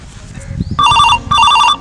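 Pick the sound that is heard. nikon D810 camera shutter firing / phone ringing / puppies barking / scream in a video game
phone ringing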